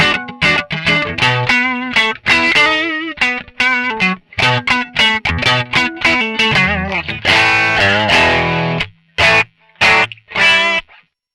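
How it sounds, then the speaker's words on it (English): An electric guitar runs through a Zoom MS-50G multi-effects pedal, with an exciter added after an edge-of-breakup patch. It plays a loud, continuous run of picked notes and short chords with gritty, slightly distorted sparkle and no talking. "I found the exciter is a really fun thing to put after the patch to give you some excitement"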